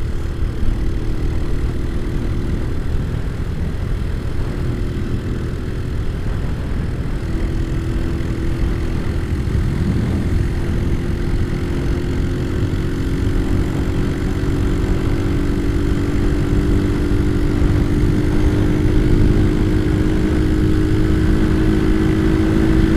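Yamaha Scorpio 225 cc motorcycle with a factory-style replacement exhaust, running on the road: steady, loud engine drone with rising and falling pitch as it accelerates, continuous and close, with no talking.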